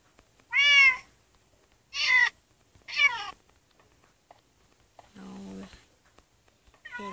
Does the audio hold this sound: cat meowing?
yes